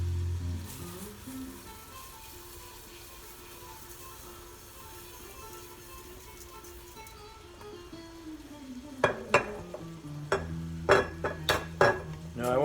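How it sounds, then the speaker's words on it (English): Rice being stirred in hot oil in a paella pan, a low steady sizzle running throughout, joined in the last few seconds by sharp scrapes and clinks of a utensil against the metal pan. "I want to stir the rice in the oil so we can get the grains coated somewhat with the oil"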